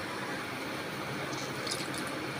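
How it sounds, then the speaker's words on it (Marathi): Water added to freshly grated raw potato, a steady, close, hissing trickle that runs unbroken for a couple of seconds with no talk. "त्याच्यामध्ये आपण थोडंसं पाणी घालणार आहोत"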